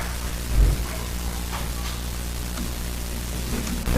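Steady hiss of rain with a dull low thump of thunder early on, a continuous noisy wash throughout with no voices.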